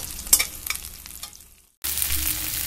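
Onions fry in hot oil in a kadai, with soft crackles and stirring scrapes that fade to near silence before a loud, steady sizzle bursts in close up.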